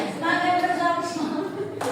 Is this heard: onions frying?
no